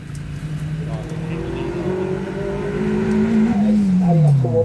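A car at the Tregrehan Hillclimb accelerates up towards the hairpin with a rising engine note that builds in pitch and loudness, under steady talk.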